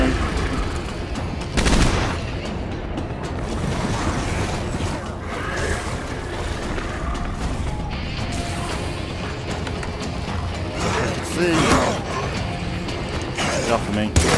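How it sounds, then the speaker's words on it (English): Gunfire in the zombie survival game State of Decay 2 crackles in scattered sharp bursts over a busy, cluttered mix of mechanical noise, with a voice talking at times. "Keep shooting."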